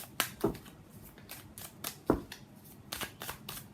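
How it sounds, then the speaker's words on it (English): A tarot deck is shuffled by hand in a quiet room, with soft riffling and a few sharper card snaps at an uneven rhythm. No one speaks. "So let's pull some cards from universe."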